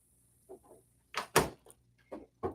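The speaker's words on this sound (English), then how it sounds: "Close my door." An indoor door closes, with a few soft handling knocks first and then a sharp thud and rattle as it shuts, followed by small clicks in a quiet room.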